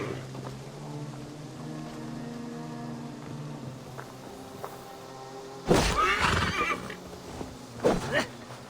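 A horse in a Viking-themed video game whinnies, with harmonic tonal calls through the first half followed by two louder noisy bursts near the end, over a steady game background and faint voices.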